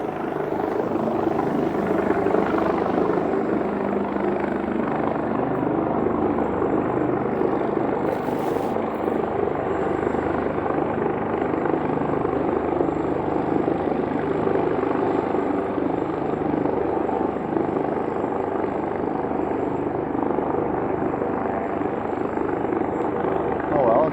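An Ornge medical helicopter in downtown Toronto after midnight, preparing for takeoff, throbs with a loud continuous rotor and engine drone that stays steady throughout, heard from a nearby street.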